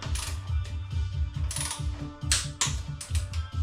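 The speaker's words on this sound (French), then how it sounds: "Là, je viens serrer les vis du pied de fourche" Ratchet wrench clicking steadily and rapidly as it tightens the fork foot screws on a Triumph Street Triple 765 with a Showa 41 mm fork, close and continuous, with brief pauses between strokes.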